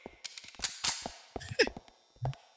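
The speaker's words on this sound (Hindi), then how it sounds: "Somebody is trying to shoot me, huh?" Gunfire in Grand Theft Auto 4 gameplay, a scattered series of sharp cracks and pops at irregular intervals, some near and loud, others fainter, with short gaps between bursts.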